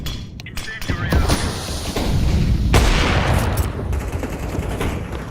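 In Counter-Strike, a thrown grenade and incendiary set off a burst of explosions and crackling gunfire amid dense in-game combat, with voices talking over the noise.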